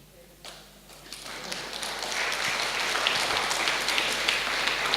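Applause from a church congregation during a sermon, building from scattered claps into steady, dense clapping that fills the hall and keeps going.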